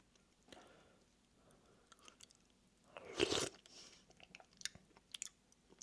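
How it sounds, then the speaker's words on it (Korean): A spoonful of spicy buldak seaweed soup ramen broth being eaten, a short burst of close slurping and chewing at about three seconds amid quiet mouth sounds. "제가 감히 국물을 한 입 먹어보도록 하겠습니다."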